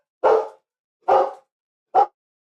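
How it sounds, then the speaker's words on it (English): Three sharp barks from dogs indoors, evenly spaced and fairly close, each a short punchy burst with silence in between. "sorry, the dogs are losing it right now"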